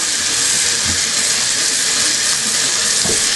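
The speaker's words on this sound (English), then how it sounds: "you take warm water and you take your brushes and then you just wet it" Warm tap water runs into a sink while makeup brushes are wetted under the stream, a loud, close, continuous rushing hiss with a few soft splashy bumps as the flow hits the bristles.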